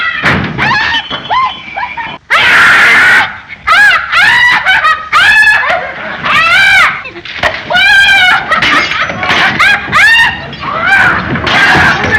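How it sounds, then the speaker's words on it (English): A woman screams and shrieks repeatedly in loud, piercing bursts with short gaps between them, from the 1933 film The Invisible Man. "She's always screaming."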